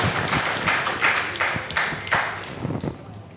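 Audience applause welcoming a guest at a speech event, a scattered patter of hand claps from a modest crowd that swells in uneven waves and then thins out.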